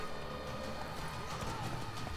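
Horse hooves clip-clopping under a rider in the video game The Witcher 3, a brisk rhythmic patter heard beneath game noise and mixed with background action sounds.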